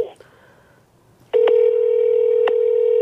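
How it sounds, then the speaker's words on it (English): Home landline telephone being dialed, a few short tones and clicks giving way to a loud, steady single-pitch tone broken by brief key beeps, close to the microphone. "I'm calling the home phone."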